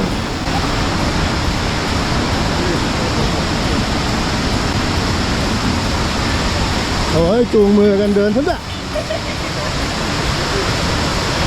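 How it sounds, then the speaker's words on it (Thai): Khlong Lan waterfall, swollen and muddy with late rainy-season water, roars loud and continuously nearby as a dense, steady rush, with a brief burst of people talking over it partway through. "เริ่มได้ยินเสียงน้ำตกแล้วครับ"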